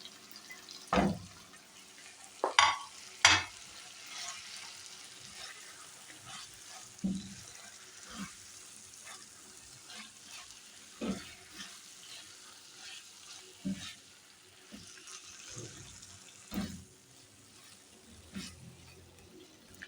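Onion and okra cooking together in a pan for masala bhindi, a soft low sizzle with scattered clinks and scrapes of stirring over about twenty seconds, no talk.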